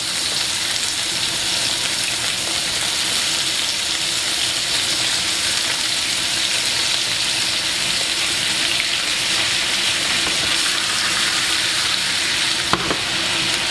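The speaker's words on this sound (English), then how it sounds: "And now we're going to go in with our 2 cloves of garlic. And we're going to start adding some lovely butter into our pan." Two garlic cloves and butter frying in a hot pan for steak frites, a loud, dense, continuous sizzle close by, with a single faint clink near the end.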